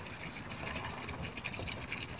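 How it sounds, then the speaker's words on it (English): Water gushing and spraying steadily from a hose or tap onto a child's pinwheel outdoors, a continuous hissing splash with slight fluttering, close and fairly loud without talk. "we better wash the pinwheel off"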